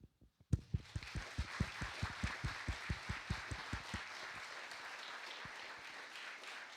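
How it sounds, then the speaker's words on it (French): An audience at a town New Year's greetings ceremony in Baisieux breaks into applause, starting with a sharp onset and settling into a steady, rhythmic clapping that fades gradually, heard at moderate distance without talk. "Je vous propose donc de les applaudir."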